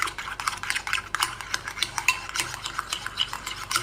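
A spoon stirring cream in a bowl, quick repeated scraping and clinking strokes in a steady rhythm, close up with no voices.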